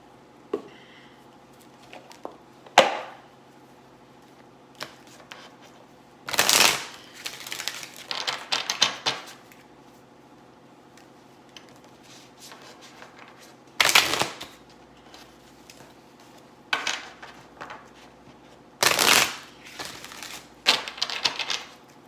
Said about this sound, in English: We are going to use the Soul Journey cards here.